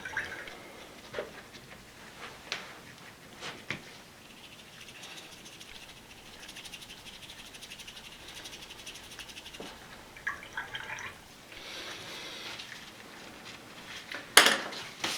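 Oil paint brushes are washed with soap and water by hand, giving faint, steady wet swishing with scattered drips, clinks and light splashes throughout, growing busier and louder near the end.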